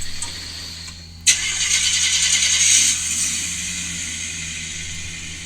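A car engine, not a V8, cranks and catches with an abrupt burst, then settles into a steady, even idle that hums on alone for several seconds.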